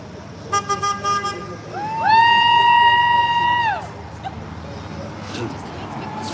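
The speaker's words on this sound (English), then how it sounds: "It's funny to hear everybody go off every time someone honks." A car horn sounds at a street protest: a few short taps, then one long sustained blast of about two seconds, with crowd noise and traffic murmuring underneath.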